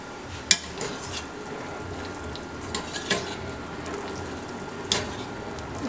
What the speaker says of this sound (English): Okay, we'll give that a stir.